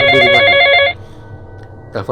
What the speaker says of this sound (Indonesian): itu telepon